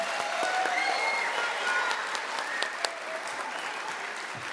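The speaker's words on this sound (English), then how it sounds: "with a big round of applause, let's welcome our kindergarten and first grade performers" Audience applause welcoming kindergarten and first grade performers at an elementary school concert, a steady, dense clapping that fills the room for several seconds with a few louder claps and faint cheering mixed in.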